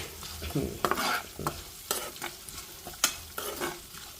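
Potato fried rice seasoned with coriander powder and garam masala is stirred in a pan, with scraping spoon strokes coming in an uneven rhythm over a soft sizzle, close and fairly quiet.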